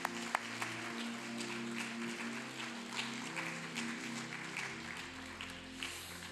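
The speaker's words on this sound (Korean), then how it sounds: "우리 박수로 저들의 길을 축복해 주시고 격려해 주시기 바랍니다." A church congregation applauds steadily during a Sunday baptism and confirmation service, producing a soft, continuous patter of clapping that blends with sustained background music.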